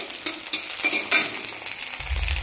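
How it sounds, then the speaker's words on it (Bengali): Nigella seeds, chili and garlic frying in hot oil in a home kitchen, a steady close sizzle with a spatula stirring and scraping the pan, and a louder crackling burst near the end. "এই যে রসুন দিয়ে এরকম ভাজবো"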